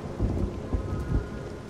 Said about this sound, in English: Since I entered the camp, it's been raining like this the whole time.